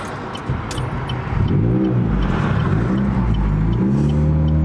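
A turbocharged Chevrolet Cruze 1.8t pulls hard in second gear, engine droning then rising in pitch as it accelerates, loud and close from inside the car with no talk.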